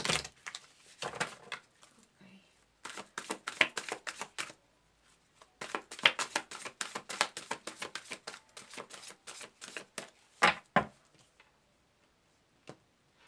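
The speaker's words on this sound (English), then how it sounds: "So I have to cut the cards first." Oracle cards being shuffled and cut at close range during a tarot-style reading: a soft papery rustle with quick flicks in uneven bursts and short pauses between them.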